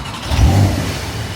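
A 2025 Porsche 911 Carrera engine revs in a brief loud burst, a deep throaty blip that rises and fades within about a second.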